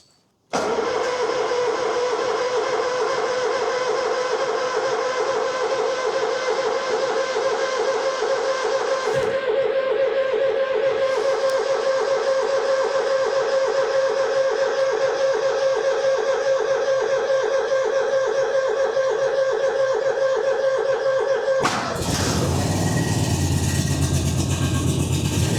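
A vehicle engine cranks on a cold start in freezing winter conditions, then catches and runs at a steady, loud idle. Near the end it revs briefly with a rougher, louder burst.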